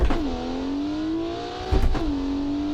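Budget 2000s performance car in BeamNG.drive revving at launch, engine note holding high and steady, dipping briefly as it shifts, then climbing again, loud and close with no talk.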